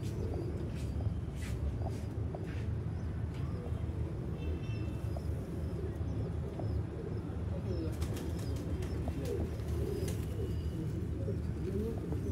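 Pigeons of an old Bateray breed, one bird about 18 years old, coo steadily with bursts of wing flapping over twelve seconds, the sound dense and close with no talk.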